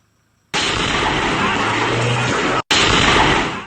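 A sudden, massive blast erupts at a fireworks materials storage site after brief quiet, a loud roaring rumble that cuts out for an instant and then continues.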